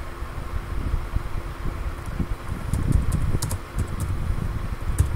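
Computer keyboard being typed on while entering a MySQL insert statement, light scattered key clicks, faint under a steady fan-like hiss, growing busier toward the middle.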